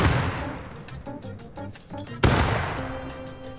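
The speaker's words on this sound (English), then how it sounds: "Grenade out!" An F1 grenade explodes in the video game Rust, with a loud boom partway through and a decaying rumble, after a burst of earlier gunfire-like blasts.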